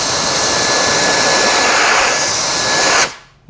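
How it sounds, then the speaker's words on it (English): Compressed air hisses loudly and continuously from an air duster for about three seconds, blowing leftover dust and sediment out of a white Tesla interior, then cuts off abruptly. "And then I also use this air duster if there's any leftover sediment in there."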